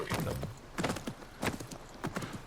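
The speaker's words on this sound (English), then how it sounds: "But now I have horse." Horse hooves clip-clop in the video game Assassin's Creed Mirage, a quiet, even walking rhythm of paired hoof strikes, about four clusters in quick succession.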